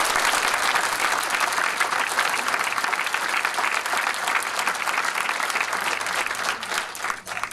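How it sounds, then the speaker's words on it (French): Loud, dense audience applause fills the room for several seconds at a cinema screening and discussion, steady throughout with a slight dip near the end. "Je vous demande de l'acclamer."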